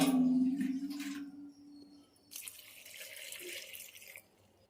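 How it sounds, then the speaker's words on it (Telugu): Water poured into a cooking pot holding tamarind and salt, a strong splashing pour that tapers off, followed by a brighter hissing trickle. "వాటర్ కూడా పోసేసుకుందాం 3 గ్లాసులు"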